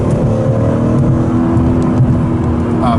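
BMW Z3 M Coupe with an S54 engine revs while driving, a loud continuous engine drone with steady low harmonics and slight rises in pitch, heard from inside the car with no talking.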